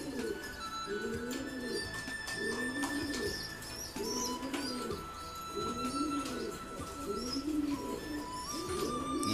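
Young pigeon squabs coo while being fed from a small food pot. Low, throaty coos pulse in a steady rhythm, close and clear, over faint chirps and rustling.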